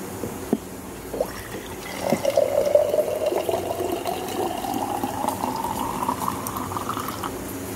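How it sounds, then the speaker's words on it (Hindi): Water trickles little by little into flour for chapati dough in a home kitchen, a steady near pour with a rising tone as the bowl fills, sounding alone. "आटा के लिए पानी थोड़ा थोड़ा करके डालना है मुझे।"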